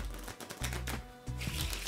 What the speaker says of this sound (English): You can literally just shuffle these face up into face down.